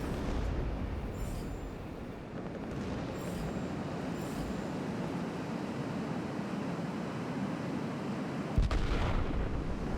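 Heavy booming gunfire in a video game, deep rumbling blasts rolling continuously with a sharper burst near the end, loud and dense throughout.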